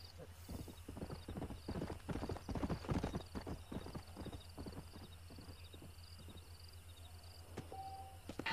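A stallion's hooves clip-clop steadily in the Western game Red Dead Redemption, a quick, even rhythm of close hoof strikes over a low background hum, with faint speech underneath.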